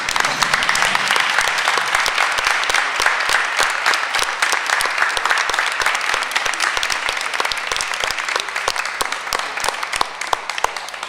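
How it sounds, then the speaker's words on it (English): A school board meeting audience applauds a student with steady, dense clapping that stays loud for around eleven seconds. "let's give Eli a big round of applause on obtaining this tremendous honor"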